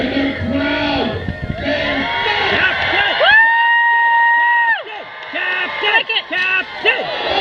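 A crowd at a renaissance festival joust cheers and shouts, a loud rolling swell of voices with whoops and sustained held calls, close and lively from start to finish.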